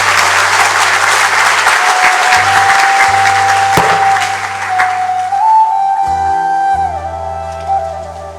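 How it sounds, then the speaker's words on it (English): Loud, sustained applause from a graduation ceremony audience at a boys' Hindu college, dense clapping that holds steady before easing slightly toward the end, with a faint tonal hum underneath. "Can I have one final round of applause, please, for their performance?"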